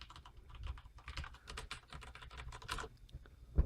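Fingers type on a Corsair Vengeance K70 mechanical keyboard in a quick, uneven run of soft clacks. The keystrokes sit close, but the level is quiet and there is no talking.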